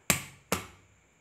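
A foot stomping on the floor twice, two sharp thuds about half a second apart, close and clear with short decays and nothing else around.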